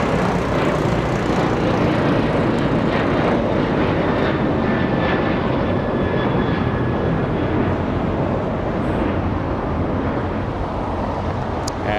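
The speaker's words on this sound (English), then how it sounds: "We have United Airlines, a 737-900 flying to Seattle." A United Airlines Boeing 737-900 bound for Seattle roars past at Los Angeles International Airport, a loud, sustained, dense jet engine noise that stays strong and steady throughout, with no talk.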